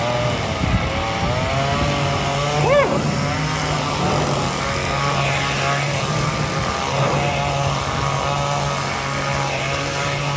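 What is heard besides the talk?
chainsaw engine running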